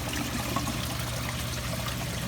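Water trickling steadily through a 1-inch PVC tube into a saltwater aquarium sump, a continuous close splashing flow over a low pump hum.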